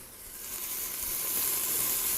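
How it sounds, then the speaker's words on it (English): Chopped garlic sizzles in a hot pan, a loud, close, continuous hissing crackle that builds slightly and holds steady, with no speech over it. "when you're cooking and you throw the garlic in"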